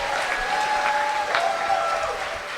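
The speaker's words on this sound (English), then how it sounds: "Can we thanks, give a man. round of applause to his set?" A crowd at the Kill Tony comedy show applauds after a comedian's set, lively sustained clapping with cheering and a voice briefly heard over it.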